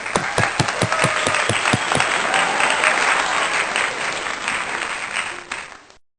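A congregation applauds at a Sunday church worship service: a few distinct sharp claps build into dense, steady applause that holds, then thins and fades out at the end.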